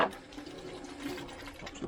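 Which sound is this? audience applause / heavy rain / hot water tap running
hot water tap running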